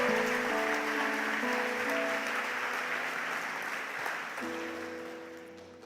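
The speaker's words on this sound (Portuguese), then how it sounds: "Você pode dar um aplauso aí pelo seu irmão" Congregation at a church service applauds for a fellow member, a broad rain-like wash of clapping layered over sustained keyboard chords that shift partway through, gradually fading toward the end.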